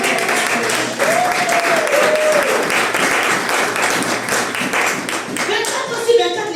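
A church congregation claps in sustained, dense applause, loud and close, with voices calling out over the clapping throughout.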